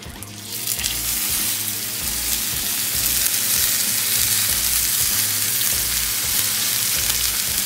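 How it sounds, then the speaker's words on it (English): White onion sautés in butter in a pan with a loud, constant sizzle up close, under a low rhythmic hum and with no voices. "I don't have any shallot, but I do have a white onion, so I'll saute that"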